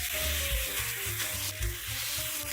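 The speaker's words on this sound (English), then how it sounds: "After adding the bean sprouts, stir-fry a few more times" Homemade stir-fried noodles with bean sprouts, choy sum and pork lard being tossed in a pan, a steady loud sizzle with scraping stirs and clanks of the utensil against the pan, with no talking.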